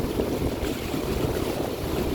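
A sailboat runs down the Baja Peninsula coast under steady, loud wind and rushing water, the wind buffeting the microphone throughout with no one talking.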